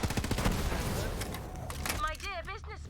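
Rapid gunfire in Borderlands 3 on PC, playing as Zane: a dense rattling volley of shots for about two seconds, then a voice speaks as the shooting fades.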